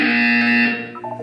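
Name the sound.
buzzer in a video game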